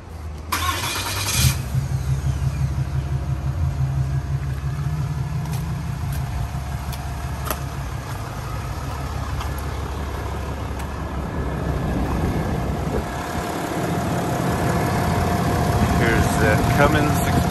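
A 2021 Ram 2500 Limited Mega Cab with a Cummins 6.7-liter turbo diesel starts with a short crank, then settles into a steady, deep idle heard close by outdoors, with a person talking at times over the engine.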